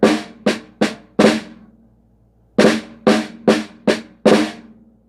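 Flam strokes on a drum, played with the right hand leading, in a rudiment lesson: a group of four sharp, close hits, a pause, then five more evenly spaced hits, with no talking.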